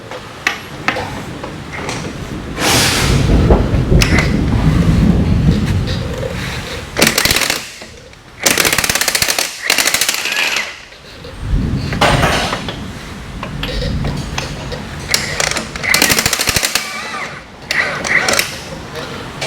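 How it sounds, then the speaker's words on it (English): A powerful impact wrench removes lug nuts from a heavy truck tire in loud rattling bursts separated by short gaps, with talk between the bursts. "All right, Carter, get the big gun there and take off the lug nuts on the tire."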